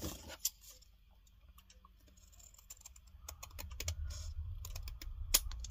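Scissors cutting paper for a Christmas table decoration: faint, close snipping clicks, sparse at first and then clustering into quick runs of cuts over a quiet room background.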